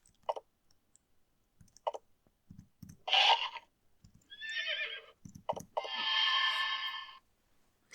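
Horses in the retro game Exile III neigh in fright in a dark subterranean dock, two loud whinnies ringing out between quieter clicks and thumps, with no voices.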